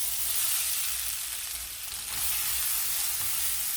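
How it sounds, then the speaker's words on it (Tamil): Grated cassava frying in ghee in a kadai, a steady close sizzle and hiss with a brief stir near the middle, no voices. "இப்போ அதே கடாயில் துருவின வள்ளிக்கிழங்கை சேர்த்துக்கலாம்."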